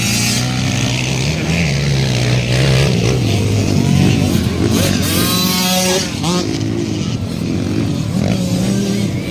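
Motorcycles race closely in a youth race with girl rider Zyrah Paco among boys, engines droning and revving loudly and continuously throughout, with a commentator talking over them.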